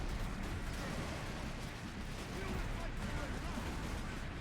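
Gunfire and blasts from the Space Marine video game rumble in a dense, continuous barrage while someone talks over the battle.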